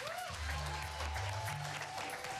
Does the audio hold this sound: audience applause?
yes